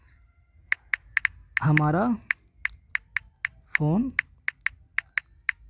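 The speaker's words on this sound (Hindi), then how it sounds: "आप इसमें मैसेज टाइप कर सकते हैं कुछ भी" Message typing on a keyboard, heard as crisp, evenly spaced key clicks that keep a steady rhythm and pause briefly while someone speaks twice.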